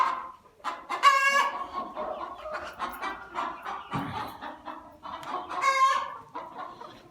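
Hens in a coop cluck and squawk close by, with a couple of louder drawn-out calls standing out from the steady muttering.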